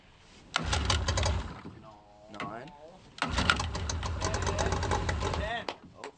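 A small dinghy outboard motor, run for a derby race, fires in two rough, buzzing bursts with a short drop between them. It sounds close and fairly loud.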